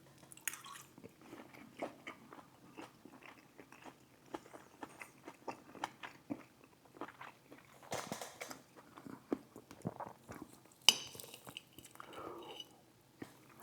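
Someone bites into and chews chicken wings coated in sweet garlic hot honey sauce, with soft close-up crunches and wet chewing that recur irregularly and quietly, plus a few louder bites.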